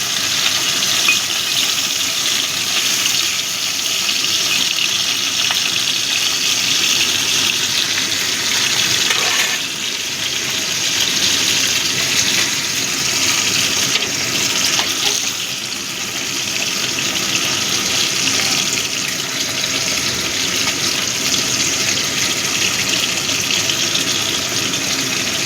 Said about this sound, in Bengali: গরম হয়ে গেছে, এবার আমি আমুদি মাছগুলোকে একটু এপাশ ওপাশ করে নেব